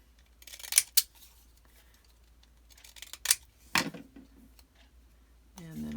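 Fancy zigzag-edged scissors snip through paper in a few sharp, close cuts separated by quiet pauses, followed by a brief spoken voice at the end.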